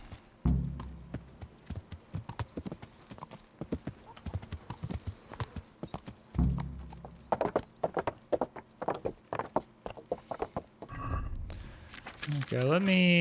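Rhythmic hoof clip-clops from a horse in Kingdom Come: Deliverance, steady and fairly close, with brief bursts of talk in between and a whinny near the end.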